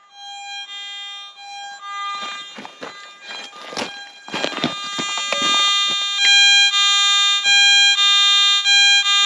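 A metal detector gives an alternating high and low electronic tone over ground with gold and quartz, steady beeps over scraping and rustling, growing louder and more regular toward the end.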